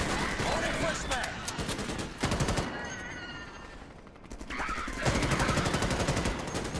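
Rapid automatic gunfire in the sci-fi shooter game Starship Troopers: Extermination rattles loud and close in long bursts, pauses briefly, then resumes, with voices heard among the shots.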